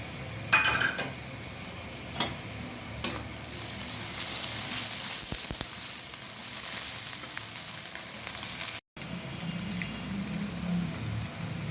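Onions browning in hot oil with whole garam masala added, frying for a chicken and potato curry cooked village-style; a steady close sizzle runs throughout, with a few sharp utensil clinks near the start and a brief dropout near the end.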